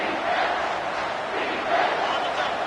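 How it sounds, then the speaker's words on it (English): A packed football stadium crowd roars loudly and continuously on a third-down play, a dense, sustained wall of cheering and shouting with no single voice standing out. "3rd down, and this crowd is tearing the lid off this place."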